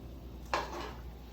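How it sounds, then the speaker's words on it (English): A single brief clatter of a utensil knocking against a pot while spaghetti is stirred, quiet and close, with a faint hum underneath and no talking. "I'm gonna give this spaghetti a little stir"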